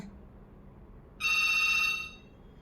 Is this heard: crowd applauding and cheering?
no